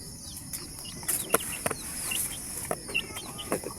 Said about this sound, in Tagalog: Yan ang ating mga sisiw.